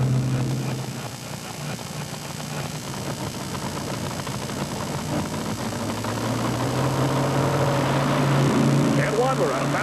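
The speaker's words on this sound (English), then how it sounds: "1990 Silverado Chevrolet powered by 650 cubic inches of janky motor" A 1990 Chevrolet Silverado pulling truck with a 650 cubic inch engine rumbles loudly and steadily at a tractor-pulling event, its engine note holding close and continuous while an announcer talks over it.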